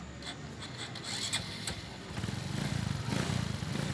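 A Honda Wave 125 motorcycle cranks on its starter motor after a carbon brush replacement, a rapid whirring churn that turns into a steady pulsing idle, heard up close with scraping handling noises and no talk.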